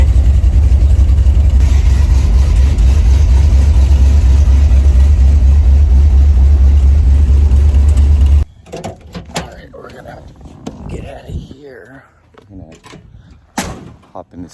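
A Honda Civic Type R FK8 fitted with an Invidia Gemini exhaust idles with a loud, deep steady drone for several seconds before it cuts off, followed by scattered quieter noises and talk.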